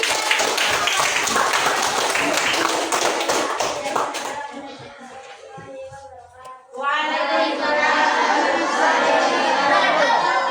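A classroom of students claps for a group during a teaching practice lesson, a fast burst of hand claps with chatter fading after about four seconds, then noisy crowd voices and shouting return.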